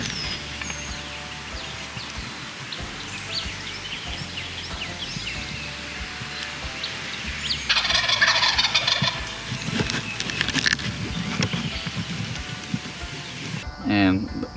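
Young wild turkeys, jakes, gobbling outdoors during a North Carolina turkey-calling event, with repeated gobbles mixed into rain pattering on surfaces and some louder rustling bursts partway through.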